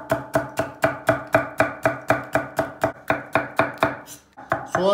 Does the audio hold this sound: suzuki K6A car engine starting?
no